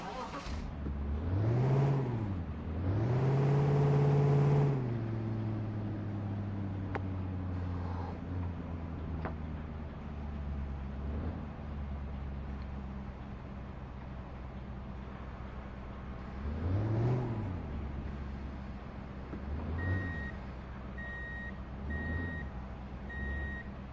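In the video game Truck & Logistics Simulator, a truck reverses to hitch a trailer, with regular reversing beeps over a low engine rumble that revs up and settles, plus a few knocks and clunks, close and fairly loud. Someone talks over part of it.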